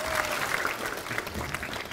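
An audience in a hall applauds with dense, steady clapping that holds at an even level for the whole stretch, with no voices over it.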